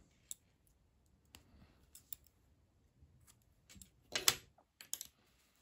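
Scissors snip through thread in a few quiet, isolated clicks, with a louder cluster of snips near the end and near silence in between.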